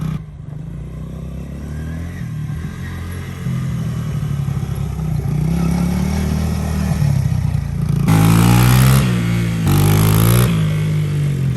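Kawasaki Mojave 110 ATV engine running while ridden, a loud close droning rumble that builds steadily, with a few rising revs and clattering bursts toward the end.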